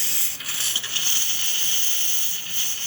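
A DeLonghi espresso machine's steam wand hisses with a steady, loud, continuous rush of steam as its thermal block reaches full temperature, with slight surges in pressure throughout.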